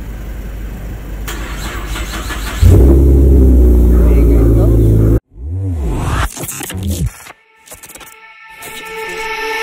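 A Chevrolet Camaro engine cranks and fires up loudly, settles into a rumbling idle, then cuts off before short revving bursts follow, with people talking nearby.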